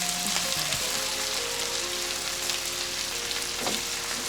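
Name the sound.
sausage, onions, peppers and potatoes frying in olive oil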